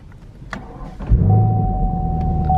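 A Chevy Camaro SS Scat Pack fires up with a loud starter-and-catch burst, then settles into a steady, rumbling idle close by, with a faint whine running over it.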